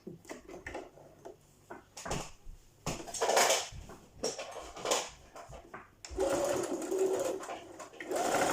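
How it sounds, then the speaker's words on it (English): A sewing machine runs in several short bursts, stitching an elastic band onto a dress, each whirring run starting and stopping close by, the last run longer and steadier. "You pull and sew and pull and sew until you get to the end."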